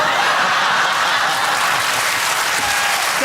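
A television studio audience applauds loudly and continuously, dense clapping mixed with a few chuckles and snickers throughout.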